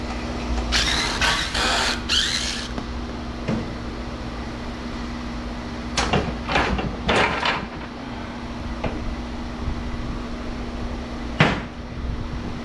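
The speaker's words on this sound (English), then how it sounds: "First thing we're gonna do is pull this cover off." Metal cover being pulled off a scrap transformer, with a few sharp scraping clanks and rattles early on, then more metallic knocks and clatter, over a steady low electrical hum.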